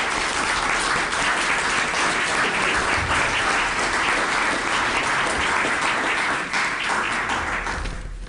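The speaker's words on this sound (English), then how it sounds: "Let's give both of these gentlemen a round of applause." A round of applause from the audience at a Chamber of Commerce election forum fills the room as dense, steady clapping from many hands, holding at an even level throughout and tapering slightly near the end.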